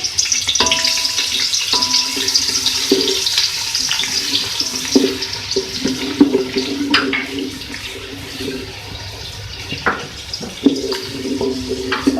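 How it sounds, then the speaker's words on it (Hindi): Sliced onions frying in hot ghee, a loud, continuous close sizzle with occasional clatter from the pan and utensil, and no talking. "मैंने घी में ऐड कर रही हूँ प्याज, इसको हम फ्राई कर लेंगे।"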